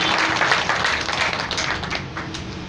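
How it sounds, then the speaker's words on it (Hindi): An audience at a Brahma Kumaris centre claps together during an Azadi Ka Amrit Mahotsav event, a steady dense patter of many hands that carries on for the whole stretch without letting up. "एक बार जोरदार ताली बजाइए।"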